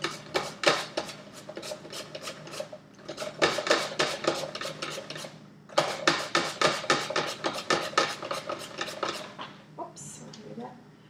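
A knife saws off the end of a zucchini in quick rhythmic scraping strokes, close and crisp, in three long runs separated by brief pauses, with no talking.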